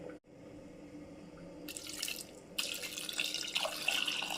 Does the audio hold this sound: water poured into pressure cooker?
yes